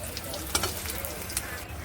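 Chopped snake gourd frying in a pan, a steady low sizzle throughout with a couple of brief clinks or stirs, close and moderately quiet.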